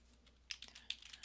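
Quiet typing on a computer keyboard, a few soft key clicks at first and then a brisker cluster of sharper taps, heard close and alone.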